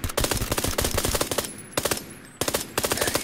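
Automatic gunfire in the battle royale game PUBG, with several rapid bursts of shots close and loud, separated by short pauses and a brief lull near the middle.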